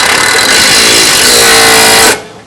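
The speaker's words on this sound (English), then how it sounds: "We'll drill a hole on this side here and put a screw to hold that in place." A power drill bores a hole through an aluminium truck tray, a loud continuous high-pitched whine lasting about two seconds before cutting off abruptly.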